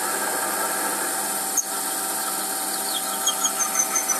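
An Emco Compact 5 CNC lathe hums steadily with a high, squealing whine as a slot drill bites into metal at about 360 rpm, with faint chirps near the end.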